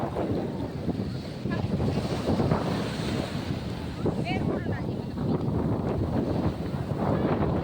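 Sea waves wash up a beach under strong wind, the surf a steady rushing wash mixed with low, gusty wind buffeting on the microphone, moderately loud throughout.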